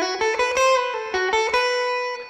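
A short blues lick on electric guitar opens with a string bend, then quick picked notes and further bends, clean and close with no talking, the final note fading out.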